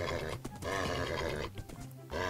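A horse in Minecraft neighs in a drawn-out, wavering whinny that repeats, loud and close, with a brief pause between calls.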